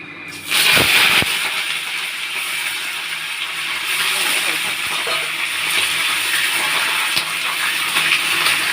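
Salted hilsa fish heads drop into hot oil in a pan, setting off a sudden loud hiss that settles into a continuous, close, broadband sizzle.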